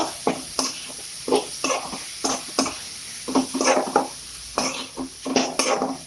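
Turmeric and chili powder stirred into an egg pepper masala in a pan, with repeated close clinks and scrapes of a spoon against metal in an irregular rhythm and a faint sizzle beneath.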